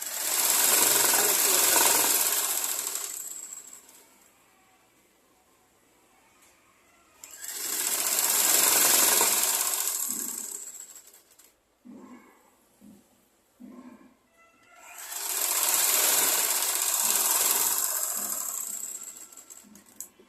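A sewing machine stitches a blouse in three long runs of loud, rapid whirring, each lasting about three to four seconds, separated by quiet pauses with a few short mechanical clicks and thumps.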